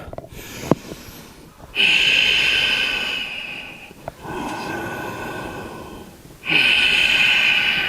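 Slow, deep breaths during a yoga flow: long hissing exhales through the nose swell and fade in turn, close and unhurried, with a short sharp sniff near the start and no talking.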